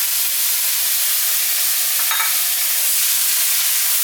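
Frozen spinach dropped into a hot pan sets off a steady, even sizzle and hiss that holds for several seconds, with a brief louder crackle midway and no voices.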